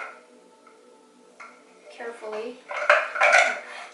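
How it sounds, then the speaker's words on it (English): Dishes and utensils clatter as raw vegan food is scraped and moved into a bowl, quiet at first, then louder scraping and clinking toward the end. "So I'm just going to transfer these, this to a bowl, carefully"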